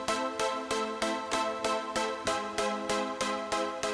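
Nexus 3 synth arpeggiator in poly mode repeats a full chord with all notes struck together, a bright, rich synth stab pulsing roughly three times per second, steady and alone with no voices.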